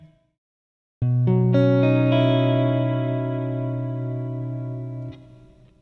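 A dissonant interval struck on a distorted, effected instrument, with further notes added beneath and ringing out together for several seconds before cutting off.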